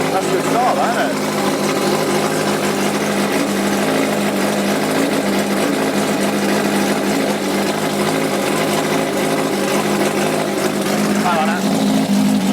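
A classic racing motorcycle, prepared in a workshop for the Manx GP Senior Classic race, runs at a steady idle: a loud, continuous, buzzing engine drone that holds even throughout without revving.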